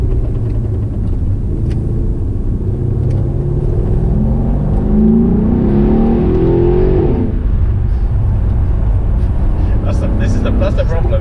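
A Mercedes-AMG E63 estate with 679 bhp rumbles steadily from inside the cabin on a road, briefly swelling as it accelerates while people chat over the engine.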